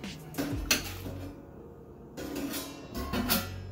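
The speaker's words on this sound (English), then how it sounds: "I'm gonna go ahead and chuck that straight in the kettle right now" Hops for a whirlpool addition tossed into a brew kettle during homebrewing of an American strong ale, giving a few clattering, metallic knocks and rustles near the mic, with a quieter pause between bursts.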